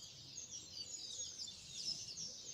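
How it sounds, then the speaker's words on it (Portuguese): Birds sing in faint, high chirps and trills, several overlapping calls continuing throughout at a distance, with no one speaking. "Olha esses pássaros cantando."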